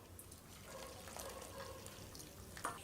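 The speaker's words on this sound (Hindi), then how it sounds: "इसके बाद हम इसके अंदर डाल देंगे गर्म पानी" Hot water is poured into a pot over a kitchen sieve, a faint trickling and splashing of liquid heard close up at low volume, with a small clink near the end.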